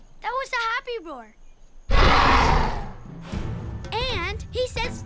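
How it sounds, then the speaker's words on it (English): A big cartoonish dinosaur roar bursts out between bits of animated PAW Patrol character speech, loud and rough for about a second before fading. "It's okay! That was a happy roar."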